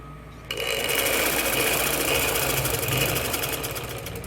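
A sewing machine starts abruptly and runs at a steady, loud, fast stitching rhythm, sewing a second seam over the first to double it on a men's kundu-style shalwar, with no talking.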